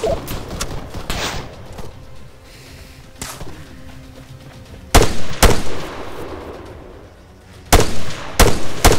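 Scattered gunshots of infantry combat in the video game Arma 3, with sharp single cracks and short clusters of rapid shots, some loud and close and others quieter, with brief lulls between volleys.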